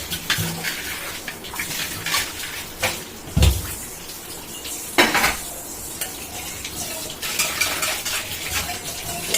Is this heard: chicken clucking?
no